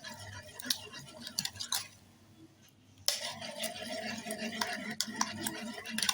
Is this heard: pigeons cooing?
no